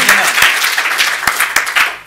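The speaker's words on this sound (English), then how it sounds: "I think that we should give him a round of applause." Loud, close audience applause after a Culture Now talk with Mark Stephens, dense clapping with a few sharp standout claps, tapering slightly near the end.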